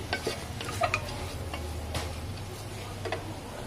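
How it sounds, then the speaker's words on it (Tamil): Masala sautéed in a pan for goat chest bone soup, with a steady low sizzle under repeated light ticking taps of a spoon against the pan. "இப்போ இந்த மசாலாவை போட்டு இதை நல்லா வதக்கி விட்டுட்டு"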